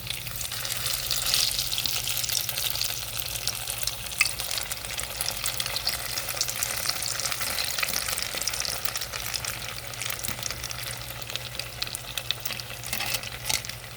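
Tofu burger patties fry in hot oil, a dense, continuous close-up sizzle with a low steady hum beneath and occasional small pops.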